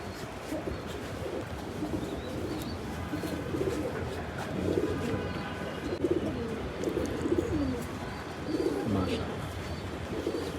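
Tournament racing pigeons coo in low, rolling bursts, several birds close by with an ambient murmur behind them and someone talking intermittently.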